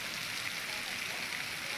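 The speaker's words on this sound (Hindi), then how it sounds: "ये देखिए किस तरह से ओले गिरे हैं।" Hailstones fall during unseasonal rain in Madhya Pradesh, India, a dense, continuous hiss of rain and hail striking surfaces, steady and fairly loud with no pauses.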